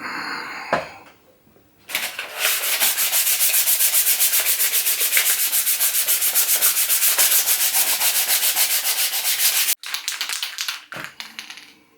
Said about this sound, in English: now I'm going to give it a quick dust sanding down